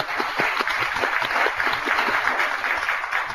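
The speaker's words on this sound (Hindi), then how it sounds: "इस बात के लिए जोरदार तालियां दोस्तों" Loud, sustained applause from a studio audience at a televised women's empowerment program, dense rapid clapping filling the whole stretch with no voices.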